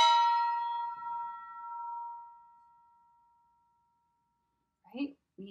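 A metal kitchen object is struck once and rings out with bright overtones, the tone fading slowly over several seconds before a voice speaks.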